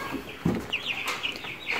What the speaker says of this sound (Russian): Рост 308, Болгария, 21 день. Вот такая птица.